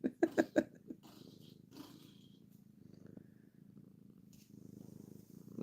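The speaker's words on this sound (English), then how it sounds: "she's purring away" A cat with an eye infection purrs softly and continuously close by, a low rhythmic rumble after a few brief louder thumps at the start.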